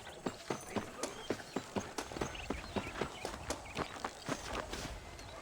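Horse hooves clip-clop in a steady walking rhythm from Red Dead Redemption, about a dozen crisp, evenly spaced hoofbeats heard close and clear over a quiet ambient background.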